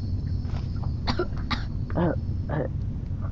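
Several short coughs, a few with a throaty, voiced edge, break out over a steady low hum in a video game, spaced irregularly across a few seconds.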